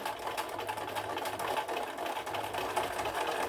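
A sewing machine stitching a quilt square corner to corner: a fast, steady mechanical whirring and clatter running continuously at moderate level, with a faint low motor hum underneath and no talking.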